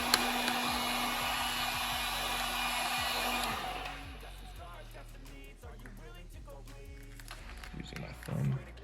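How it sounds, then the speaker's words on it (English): Heat gun blowing a loud steady hiss while heating vinyl wrap on a 2006 Subaru WRX hood scoop, then cutting off after about three and a half seconds, leaving quieter handling noises. "Okay, so now I just need to wrap these edges here. Heat up, pull all tension on it."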